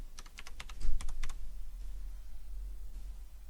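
A quick burst of sharp key clicks as a password is typed on a computer keyboard, about a dozen rapid taps over roughly a second, then only a low steady room hum.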